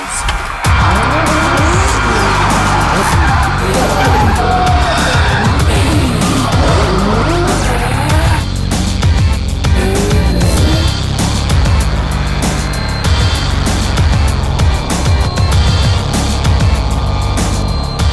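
Cars drifting at a Red Bull Drift Shifters event in a city street setting, with loud, continuous tire squeal and skidding layered over roaring engines for a long, sustained stretch.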